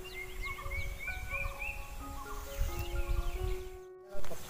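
Evening birdsong in a backyard garden: multiple birds trill and whistle in overlapping phrases at moderate distance, followed near the end by a brief gap and a short louder thump.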